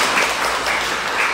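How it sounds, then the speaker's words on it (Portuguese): A short burst of steady audience applause at a spiritist study talk, a dense, even patter of many hands clapping for little more than a second. "Palmas para ele, por favor."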